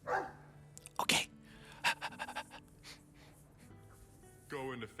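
A dog panting and snorting in the Dragon Age 2 video game, with quick breathy huffs and a sharp bark or two mixed in under game dialogue.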